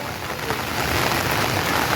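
Heavy rain pours down in an even, dense hiss, steady and moderately loud for a couple of seconds, with no voices.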